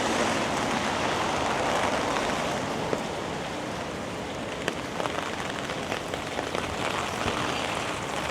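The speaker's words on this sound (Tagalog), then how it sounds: "lakad-lakad lang tayo ang lakas ng ulan." Heavy rain pours steadily on a Tokyo street in the Jimbocho book district while someone walks through it, a loud, continuous dense patter close around with a few sharper drops and no talking.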